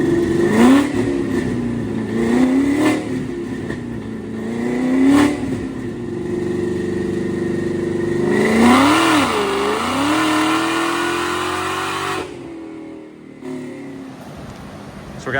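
Fox Body car with a GT500 engine swap revving hard on a dyno, loud engine climbing and falling through repeated pulls before cutting off near the end.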